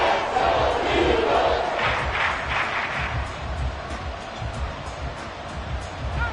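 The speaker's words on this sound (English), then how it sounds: "This crowd turning up the decibel level." American football stadium crowd roaring loudly and continuously late in the game on a third-and-long play, a dense wall of cheering and yelling that swells and holds steady.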